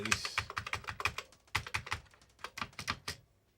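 Uneven keystrokes on an Amiga 500 computer keyboard with a fault, clicking in quick bursts and pauses, close and fairly quiet, with no talking.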